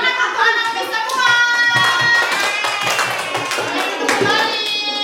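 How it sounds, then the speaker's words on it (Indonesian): Schoolchildren in an Indonesian primary classroom clap together in a loud, rhythmic burst, with children's voices chattering and calling out over the hands throughout. "Tepuk tangan untuk anak semua"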